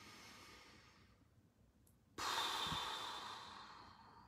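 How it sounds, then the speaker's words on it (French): A slow, deep exhalation pushing all the air out of the lungs, heard close and soft as a fading breath, followed after a brief pause by a sudden louder, rushing breath sound that gradually tapers off. "vous expirez, mais complètement tout l'air des poumons"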